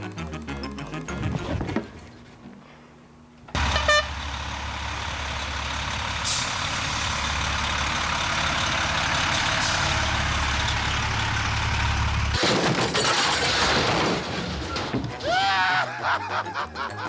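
A fire truck driving, with a steady loud engine rumble that sets in after a short pause and holds for most of the passage, then breaks into mixed mechanical sounds near the end.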